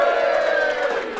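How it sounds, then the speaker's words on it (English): A live podcast audience cheers and whoops together in a short, loud burst of crowd noise. "One more cheer, please, everybody."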